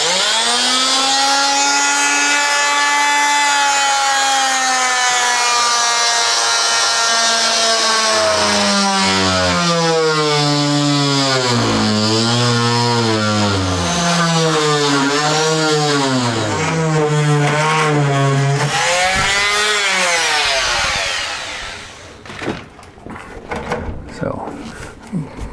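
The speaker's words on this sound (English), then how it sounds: "While we're here with the oscillating tool, we'll see if it'll cut this PVC without shaking the house to pieces" An oscillating multi-tool buzzes loudly and continuously for about twenty seconds, its whine wavering in pitch as it cuts through PVC and black ABS drain pipe, then stops, leaving a few light clatters.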